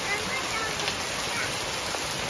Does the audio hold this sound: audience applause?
no